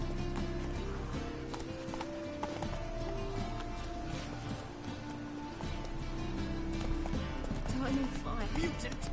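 Horse hooves clip-clopping at a run in The Witcher 3 on PS4, a steady rhythmic patter beneath game music and voices talking throughout.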